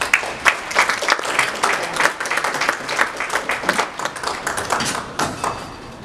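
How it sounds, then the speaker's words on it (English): A guest speaker is welcomed by a hall audience clapping, the applause uneven and lively, with some individual claps standing out near the front, sustained at a fairly loud level for the whole stretch. "And now let me just welcome with applause Dr. MacKay."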